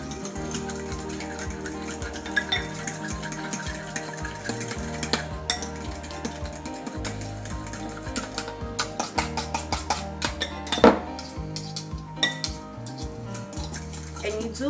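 Sour cream and distilled vinegar being mixed in a bowl, with repeated scraping and clinking of a utensil against the bowl in an uneven rhythm, close and fairly clear.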